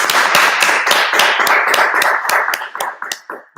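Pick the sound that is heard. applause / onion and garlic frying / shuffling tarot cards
applause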